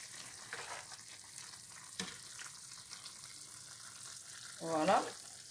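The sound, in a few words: lamb navarin stew boiling in pot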